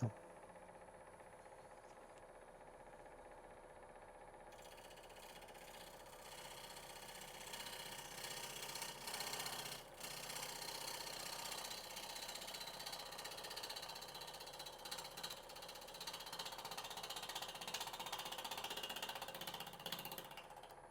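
A wood lathe spins a natural edge bowl as a spindle gouge cuts into it, producing a steady, continuous whirring hum with a rough scraping texture that runs close and unbroken throughout.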